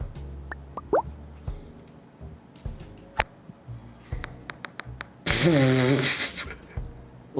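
Golf ball splashing into water in the video game Super Golf: scattered ticks and drips, then a loud burst of bubbling splash lasting about a second, with voices around it.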